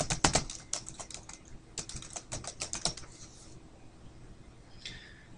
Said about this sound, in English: So I'll type in my website here